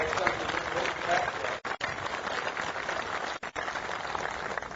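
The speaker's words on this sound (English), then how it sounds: "You can clap." Audience applause at a company's 100th anniversary celebration, a steady dense wash of clapping, fairly distant, with two brief dips.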